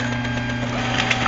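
Brother T820DW printer copying an ID card, a steady mechanical whir and hum with faint clicking, close and continuous for the whole moment.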